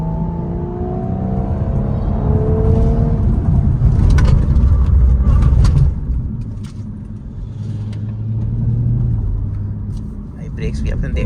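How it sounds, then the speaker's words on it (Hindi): An Audi S5 Sportback slows under braking from about 100 km/h on an open road, its engine and tyre rumble falling away while someone talks over it inside the car. "मैं इसको थोड़ा धीमे करके दिखाऊंगा अराउंड 100 से।"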